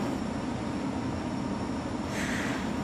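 An airport transit train pulling out of a station, with steady loud rumbling and rolling noise throughout and a brief higher hiss near the end.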